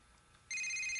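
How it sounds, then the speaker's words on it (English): A telephone begins ringing abruptly halfway through, a steady bright electronic ring that holds loud and continuous after a quiet indoor room tone. "that phone isn't going to stop ringing until you do."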